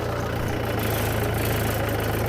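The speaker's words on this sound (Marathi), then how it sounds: "ट्रॅक्टर नेऊन सोडायचं" A tractor engine idles steadily with an even, rapid low throb that holds close and constant throughout, with no voices.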